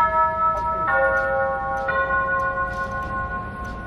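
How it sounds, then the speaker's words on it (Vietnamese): Bells of the clock tower on the Shanghai Customs House ring out in several resonant strikes, each tone sustaining and overlapping the last, heard clearly from street level without speech. "Tòa hải quan Thượng Hải này thì cứ 15 phút sẽ rung chuông một lần."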